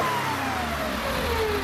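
A Porsche engine on a service stand takes a short throttle blip, the revs falling smoothly back as a steady, close mechanical hum continues, without any voices.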